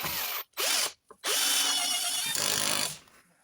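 A torque wrench tightens a bolt on a Lambretta twin-cylinder scooter engine during an engine build, producing close, loud bursts of ratcheting clicks, two short ones and then a longer sustained one that fades out, with no talk.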